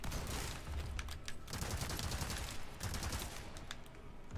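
Rapid gunfire from a fully upgraded SMG and a heavy shotgun blast in the video game Resident Evil 4 Remake: dense, continuous volleys of loud close shots with sharp cracks layered over a constant roar, with no talk.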